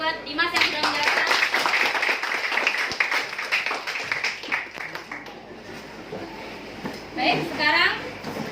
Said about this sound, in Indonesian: tepuk tangan buat Dimas yang sudah menjelaskan.